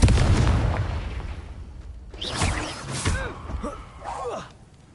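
A Confringo spell explosion in Hogwarts Legacy lands with a loud low boom that decays over the first second or two, followed by fainter crackles and game voice grunts.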